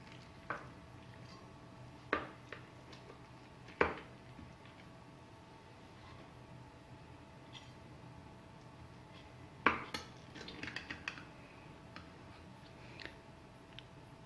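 Metal cutlery cuts into baked white sauce pasta in a dish, producing a few sharp scrapes and clinks at irregular intervals over a quiet kitchen background.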